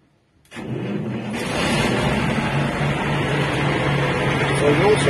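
Diesel engine of a KhTZ T-150K tractor cranking and catching, then settling into a steady loud rumbling idle that holds to the end.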